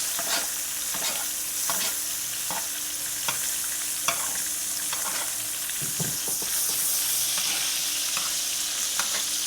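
Steak sizzling steadily in a pan with melted butter and its own juices, a constant bright fry with regular soft clicks and knocks from stirring or basting, close and fairly loud with no talking.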